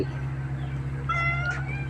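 A hungry kitten at a temple in Lampang gives a single short, thin meow near the end of a brief stretch of low background hum.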